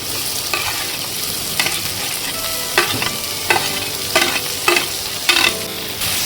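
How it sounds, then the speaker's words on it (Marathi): Onions fry in a pan with a continuous sizzle, broken by a series of sharp scraping clicks as a spatula stirs them. No voices are present. "इथं कांदा टाकून घेऊया."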